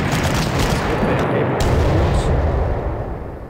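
Strategic bomber strike in the wartime strategy game Panzer Corps Gold, during an assault on the Maginot Line: a dense, continuous rumble of bombs and gunfire, loud and steady for a few seconds, then easing slightly at the end.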